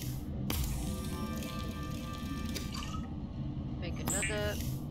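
Crafting water in Subnautica: a liquid fill sound with bubbly, watery texture over a low rumble, ending in a short chirpy rising blip of a game cue; a voice speaks briefly.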